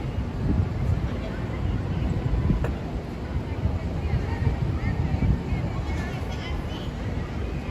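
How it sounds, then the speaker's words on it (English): Gusty wind buffets the microphone with a continuous low roar at Hudson Yards in Manhattan, New York City, and faint sounds of water and distant activity sit underneath. "Hudson Yards is almost always windy"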